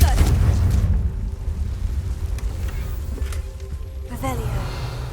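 A Confringo spell explosion in Hogwarts Legacy, heard as a loud low boom at the start that fades into a rumbling tail, with a second burst near the end.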